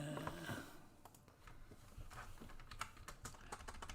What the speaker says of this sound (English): I don't know why I'm typing in there.